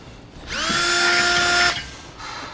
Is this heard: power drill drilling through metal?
yes